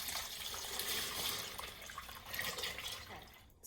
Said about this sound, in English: before I pour the syrup in